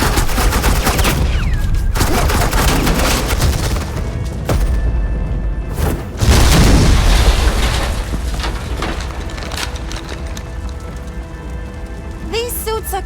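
Sustained suppressing gunfire in Batman: The Enemy Within crackles in rapid, loud volleys with heavy thuds, while a voice speaks over the shooting.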